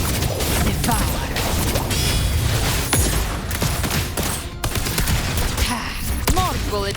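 Rapid, continuous gunfire fills a Wuthering Waves battle, a dense stream of shots mixed with impacts and game effects under a character's voice lines.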